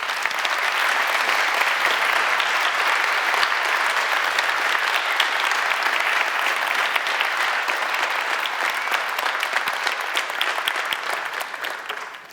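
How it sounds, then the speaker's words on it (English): Sustained audience applause as speakers are welcomed on stage for an evening talk on faith and science, a full, even wall of clapping that holds steady and fades away at the very end. "Do give them a round of applause."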